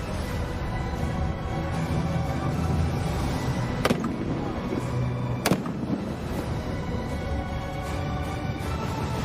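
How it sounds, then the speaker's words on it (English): Pyrotechnic explosions at a live National Day Parade military show, two sharp loud bangs a couple of seconds apart over a continuous roar of crowd and engine noise. "You may want to cover your ears as they're about to make an explosive entry."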